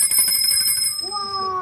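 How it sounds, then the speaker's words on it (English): A small hand bell rings with bright, high ringing tones over background chatter, then one clear stroke decays and lingers near the close, loud and close by. "would you like to hear the bell? Yeah. This is what it sounds like."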